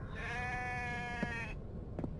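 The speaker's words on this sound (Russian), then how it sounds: "в пещерах у них бараны блеют" A sheep bleats in a cave in the video game The Infected, one long wavering cry that stops abruptly, followed by a couple of soft knocks.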